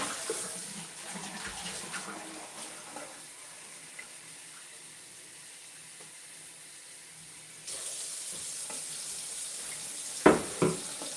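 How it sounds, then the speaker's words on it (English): Tap water runs into a cat's water bowl in a home, a soft continuous hiss of flowing water with a louder splash and clatter near the end. "give the cat new water"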